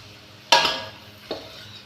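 Cabbage sabzi stirred in a pan over a gas flame, with a sharp scraping burst of the spoon against the pan followed a moment later by a softer second scrape, close and without talk.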